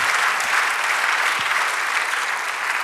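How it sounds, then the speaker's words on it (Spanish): A church congregation applauds during a Spanish-language sermon, dense steady clapping from a crowd that holds at an even, loud level for the whole stretch. "Dale otro aplauso a nuestro Dios"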